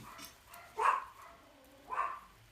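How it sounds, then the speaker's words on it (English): Dogs barking somewhere in a house, two sharp bursts about a second apart, moderately loud against a quiet room. "Sorry, my dogs are going crazy."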